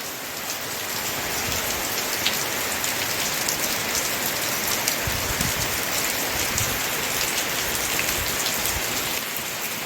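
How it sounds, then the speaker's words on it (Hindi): Heavy, steady rain pours down, a dense continuous hiss of drops hitting surfaces with occasional louder splats, no voices. "और अब देखिए कितने जम के बारिश हो रही है"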